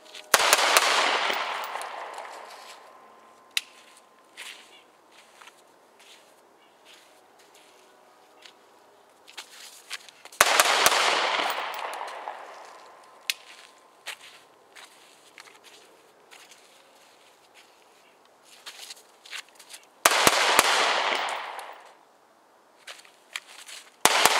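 An HK USP9c compact 9mm pistol fires three sharp, loud shots at a range of 3 yards, spaced about ten seconds apart. Each shot leaves a decaying ring, with light handling clicks in the quiet gaps between them.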